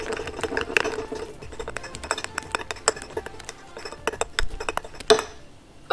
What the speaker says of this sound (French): Et je remélange le tout.